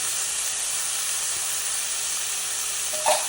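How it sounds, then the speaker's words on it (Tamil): Chopped vegetables including beans sautéing in a pan for veg fried rice, a steady, even sizzle and hiss throughout, with a brief clink of a utensil near the end. "நல்லா சேர்த்து நல்லா வதக்கி விட்டுக்கலாம்."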